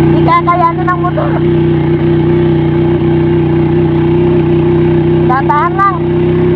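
A motorcycle engine drones hard and steady while straining up a steep road, a loud close hum that holds throughout, with people talking briefly at the start and near the end.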